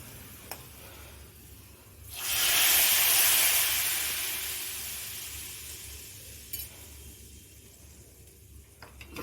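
Asafoetida tempering hits a pot of dry fish curry with a sudden loud sizzling hiss that swells, then slowly dies away over several seconds, framed by faint clinks of utensils before and after.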